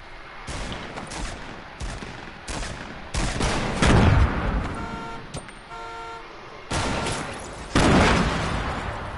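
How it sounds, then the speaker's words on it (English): Sniper and rifle shots in a multiplayer shooter game, sharp cracks spaced a second or two apart with louder impacts and tonal game sounds in between. "Oh, I'm getting sniped at."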